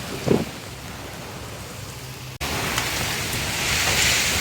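Heavy downpour in a Lahore storm, a dense steady hiss of rain that jumps louder partway through after a brief cut and keeps building, close and loud with no voices.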